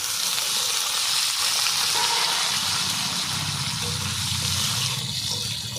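Long-cut potato strips frying in a pan with a black cumin tempering give a constant, dense sizzle that stays loud and steady throughout, with no speech.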